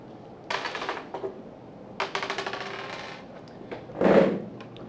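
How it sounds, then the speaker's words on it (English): Dice roll across a board game surface in a hurricane-themed game, giving two quick bursts of rattling clicks and tumbles, then a duller thud toward the end; close and fairly quiet, with no talking. "You roll the dice."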